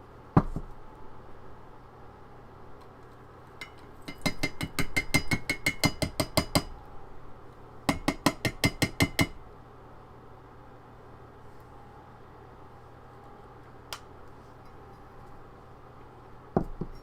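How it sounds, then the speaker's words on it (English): A colored pencil sharpener being emptied gives two bursts of rapid, evenly spaced tapping and clicking, each lasting a couple of seconds, with a few isolated knocks around them. The sound is close and moderately loud over a quiet background. "I can always tell when it's getting close to time to empty out my sharpener"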